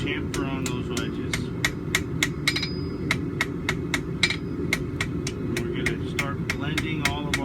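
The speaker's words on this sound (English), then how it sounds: "Back to a small hammer, but we're going to go onto the sides of our welds, on the corners, and we're going to put a little chamfer" A small hammer chamfers the corners and sides of forge-welded seams on a steel back scratcher, ringing out as a quick, steady run of close, bright metallic strikes over a low rumbling background.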